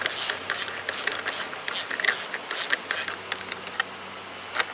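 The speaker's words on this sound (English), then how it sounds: "get a ratchet with a socket that'll fit it, and run the first one up" Ratchet and socket tightening a bolt on a boat mount, a steady run of close, rapid clicking pawl strokes repeating without pause.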